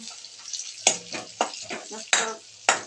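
Grated carrots with cashews and almonds are stirred in a pan for carrot halwa, with four sharp, close spatula scrapes at steady intervals over a soft sizzle.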